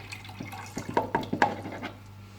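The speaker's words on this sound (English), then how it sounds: "fill this up as much as you can with water, or as much as my measuring jug will take" Water pouring from a measuring jug into the water tank of a Nespresso Vertuo Next, a brief run of close gurgling splashes that rises and then trails off.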